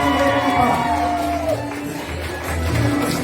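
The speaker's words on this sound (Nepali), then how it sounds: "ताली खोइ त" A crowd at a Deusi Bhailo cultural program in Saudi Arabia claps, cheers and whoops, a loud continuous mix of voices and applause throughout.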